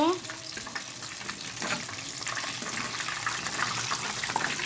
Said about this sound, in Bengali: চিকেনটা ফ্রাই হয়ে গেছে এখন এটাকে আমি উঠিয়ে নেব